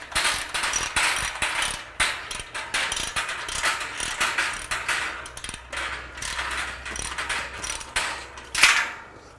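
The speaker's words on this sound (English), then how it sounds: "I have my ratchet." A hand ratchet clicks rapidly in short bursts while tightening a bolt on a tool security cage build, close and crisp, with brief pauses between strokes.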